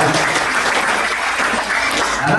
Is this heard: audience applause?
yes